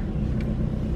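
Car driving along a road, a steady low rumble of engine and tyre noise heard from inside the cabin throughout, with no talk.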